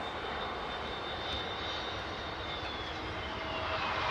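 An Airbus airliner engine gives a steady, continuous roar with a faint high whine, holding even throughout and without any voices.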